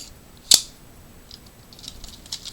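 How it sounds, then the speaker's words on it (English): A single sharp plastic click, close and fairly loud, as a Power Rangers Samurai Black Box toy slides onto its morpher, followed by faint handling rustles. "you're just gonna slide it right on, and you'll hear a click"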